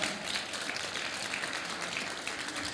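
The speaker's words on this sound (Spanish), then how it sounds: "si va a aplaudir, aplauda" Audience applause during a sermon, a dense steady patter of many hands clapping at moderate volume, with no voices over it.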